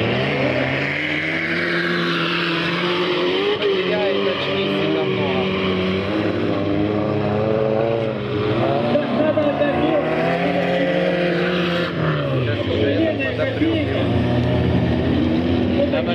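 A Lada Kopeyka and other cars race in a survival race, with engines droning and revving steadily throughout, loud and continuous beneath a commentator's voice.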